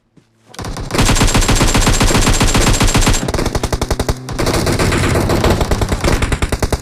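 Rapid automatic gunfire in a PUBG Mobile firefight, dense bursts of shots rattling almost continuously, briefly pausing then resuming in sharper spaced volleys, loud and close.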